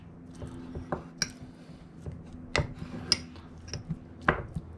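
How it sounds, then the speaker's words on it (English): Metal spoon mashing canned black beans in a bowl, a few soft squishes and scattered light clinks of utensil against dish, close and fairly quiet with no talk. "with my spoon here, I'm just going to give them a slight little mash"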